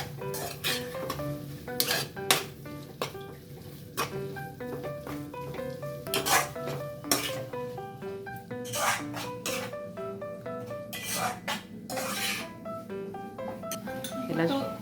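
Prawn shells being mixed with turmeric in a pan, with repeated scraping and clinking of a spoon against metal in an irregular rhythm, close up, while a voice talks throughout.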